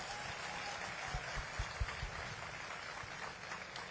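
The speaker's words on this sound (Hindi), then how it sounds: "एक बार अपने लिए ताली बजाइए" An audience at a Javed Akhtar show in Pune claps steadily throughout, with a few louder claps standing out from the dense, even patter.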